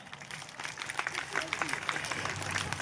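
Light, scattered clapping from an audience at a staff annual dinner patters steadily in a room, modest and thin rather than a full ovation.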